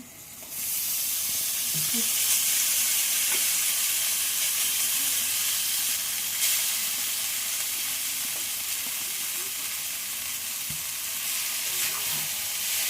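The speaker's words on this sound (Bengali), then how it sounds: "এখন আমি চাউমিনটা ছেড়ে দেবো এর মধ্যে" Chow mein noodles fry and sizzle in a hot pan with turmeric, cooked without egg, giving a steady broadband hiss with occasional stirring clicks and scrapes, close and continuous throughout with no talking.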